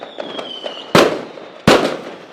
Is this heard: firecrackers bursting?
yes